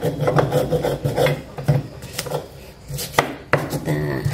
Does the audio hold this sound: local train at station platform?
no